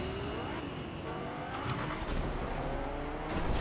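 A car in a video game drives and skids, its engine whining and changing pitch while tires squeal and scrape in bursts, loud and close throughout.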